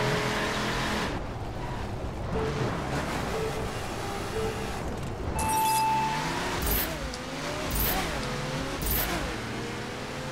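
Cars race in The Crew video game, with a continuous engine drone, rising revs and gear-shift whines, plus sharp bursts of impact or skid noise later on.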